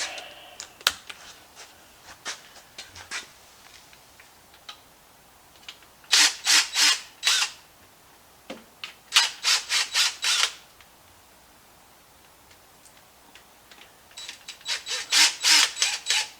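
A small impact gun runs on 1/2 inch transmission bolts at a workbench, firing in three loud bursts of rapid hammering rattles, with quiet clicks and handling noises between them.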